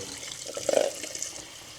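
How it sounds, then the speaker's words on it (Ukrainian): Cold tap water is poured over boiled eggs in a pot, a moderate running stream with gurgling and splashing as the water fills around the eggs. "І залиємо холодною водою."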